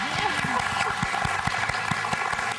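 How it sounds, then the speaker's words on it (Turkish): Studio audience clapping on a Turkish talk show, a brisk burst of hand claps with distinct individual claps standing out, while a voice and some background music run underneath. "Bir alkış gelsin"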